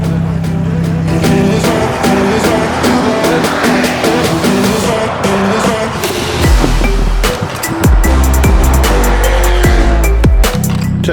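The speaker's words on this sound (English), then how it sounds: "Somebody sure knows how to drive this Ferrari." A Ferrari driving in a rally roars past with loud engine revving, gear changes and tire noise, the engine note rising and falling and growing heavier toward the end.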